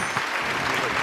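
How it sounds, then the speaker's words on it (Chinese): A TV studio audience on a job-seeking show breaks into a brief, dense burst of applause. "来，我们掌声欢迎。"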